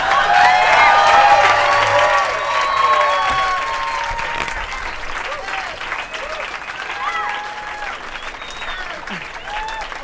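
A crowd at Seth MacFarlane's Hollywood Walk of Fame star ceremony, held outdoors, claps and cheers with scattered whoops, loudest at the start and tapering to steady applause, while a voice speaks over it early on.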